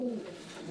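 Racing pigeons give a short, soft coo at the loft, heard close and alone.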